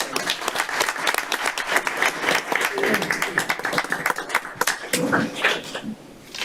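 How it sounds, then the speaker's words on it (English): An audience at a county council meeting applauds with a steady patter of many hands clapping for several seconds, fading out near the end, with some voices mixed in. "let's give Caroline a round of applause for what."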